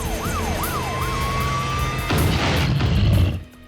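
An old police patrol car's wailing siren in a cartoon rises and falls loudly, then gives way to a rumbling crash and engine roar near the end.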